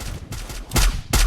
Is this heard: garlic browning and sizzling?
no